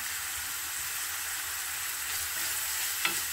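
Jamaican-style jerk chicken frying in a pan, a steady close sizzle and hiss that holds evenly, with a faint clink near the end.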